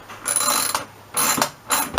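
Three quick bursts of ratcheting clicks from a torque wrench set to about five foot-pounds, snugging a fitting during a shower installation, close and fairly loud with short pauses between.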